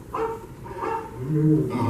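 A dog barks a few times in quick bursts, fairly close, with some whimpery yips mixed in, part of an animatronic theme park show.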